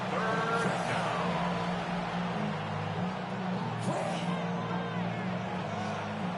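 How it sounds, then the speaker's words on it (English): A stadium crowd at a Saints versus Panthers football game in Madden 26 cheers in a steady, dense roar from a distance, with a few swells and broadcast commentary speaking over it. "This crowd into it now as we get to third down."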